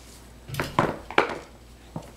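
A shoe hits a wall: a few sharp knocks and thuds against a hard surface, three main hits close together, then a softer one after a pause.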